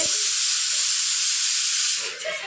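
Fried rice cooks in a pan in a home kitchen with a loud, steady hiss that fills the whole moment and eases off near the end.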